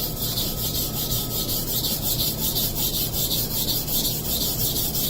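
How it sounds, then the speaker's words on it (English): Masamoto Tsukiji knife being sharpened on a stone, with rhythmic back-and-forth grinding strokes of metal, close and steady, repeating at an even pace with no talking. "As you grind the metal, you should always check it."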